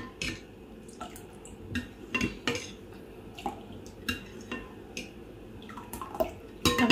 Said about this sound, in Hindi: अब इसको हम मिक्सिंग कर लेते हैं।